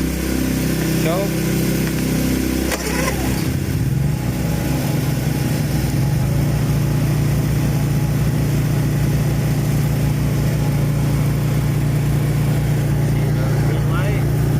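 Honda and Champion inverter generators running together in parallel, a loud steady engine drone with a low hum that shifts and settles as the load changes, with people talking over it.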